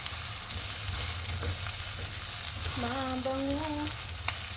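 Ingredients sizzle and fry steadily in a pan while being browned for chicken liver adobo, a continuous close hiss with occasional stirring, and a brief tonal squeak partway through.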